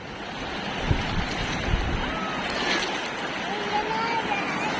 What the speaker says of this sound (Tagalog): Ayan na, dami ng waves.